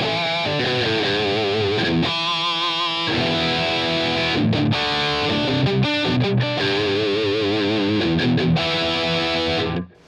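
Electric guitar played through a Line 6 Helix Elektrik amp model with two blended microphones, loud distorted chords and melodic lines ringing steadily for several seconds before cutting off sharply at the end.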